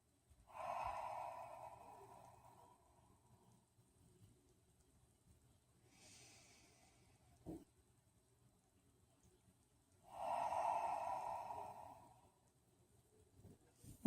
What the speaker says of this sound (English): Deep breaths in, complete breaths out.